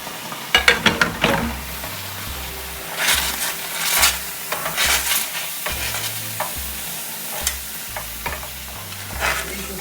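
Raw fresh oysters and prawns frying in a hot pan, a loud continuous sizzle broken by repeated scraping stirs and clatters of a utensil against the metal.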